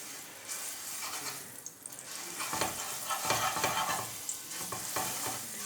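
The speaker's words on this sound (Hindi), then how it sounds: "अब थोड़ा सा मैं इसके अंदर डालूंगी लहसुन का पेस्ट" Garlic paste fries in hot ghee: a steady sizzle with stirring scrapes, a close crackling hiss that grows busier partway through, no voices.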